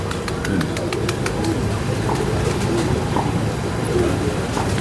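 Ferozpuri pigeons coo softly and repeatedly beneath a constant background rumble, with brief clicking taps early on.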